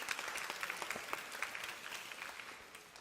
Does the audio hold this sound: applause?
yes